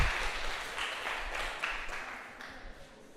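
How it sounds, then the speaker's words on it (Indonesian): Students in a classroom clap for themselves, a short burst of applause that starts fairly loud and tapers off over a few seconds. "tepuk tangan untuk kalian semuanya"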